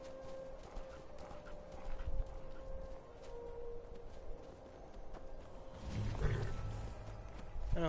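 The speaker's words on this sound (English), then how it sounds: "found a horse." A horse in Skyrim sounds with clip-clop hoofbeats and animal snorts amid game ambience, moderately faint, with louder movement near the end.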